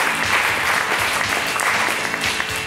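Audience applause on a French TV show, dense steady clapping from a studio crowd that carries loudly and evenly from start to finish with no talk over it.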